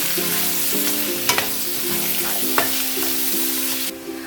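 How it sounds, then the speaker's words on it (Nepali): Turmeric and salt being stirred into a chayote pickle mixture in a pan, a steady soft scraping and sizzle with a few sharper utensil clinks, close and continuous with no talking. "अब यसलाई राम्रोसँग चलाउने।"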